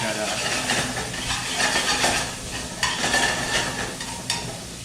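Applewood smoked bacon fries in a pan for a carbonara, a steady broadband sizzle and crackle with occasional stirring scrapes, close and continuous throughout.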